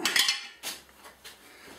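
A metal grease gun handled during a motorcycle wheel bearing replacement gives a quick burst of sharp metallic clinks and rattles, then two fainter knocks, close by with no talking.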